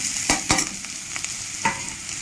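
Vegetables are stirred into a pan of fried onion and homemade spice mix, giving a steady sizzle with a few sharp scraping strokes of the spoon, close and clear, with no talking.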